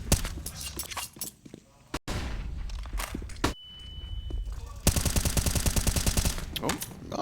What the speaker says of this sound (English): Shoot enough bullets, you'll find your headshot.